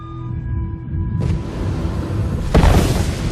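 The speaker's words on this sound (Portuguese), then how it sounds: "Como um tiro de revólver, gases quentes e escombros são lançados no espaço por essas mortais explosões solares." A deep cinematic boom of a supernova explosion used as a documentary sound effect, with a low rumbling bed that swells into a loud burst near the end, heard alone.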